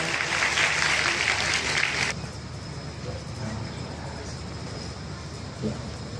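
Audience clapping at a Ram Katha during a Shiv Vivah celebration: dense, loud, continuous applause for about two seconds, then it cuts off abruptly and leaves a quieter murmuring crowd ambience.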